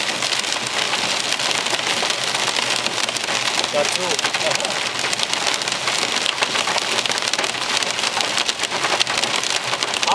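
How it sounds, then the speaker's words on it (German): Heavy rain mixed with hail pelts a car driving through a June thunderstorm line, a dense, loud, continuous drumming and hiss with no let-up; a voice briefly speaks. "Jetzt kommt wieder Hagel mit dabei."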